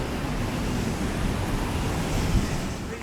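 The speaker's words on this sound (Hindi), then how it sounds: "ये वाटरफॉल है" A waterfall in Iceland gives a loud, steady, broadband rush of falling water with constant roar throughout, no voices.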